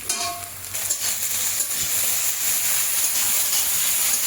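Finely chopped potatoes sizzle in hot oil in a pan, a steady, loud, even hiss with a few faint stirring scrapes near the start and no talking.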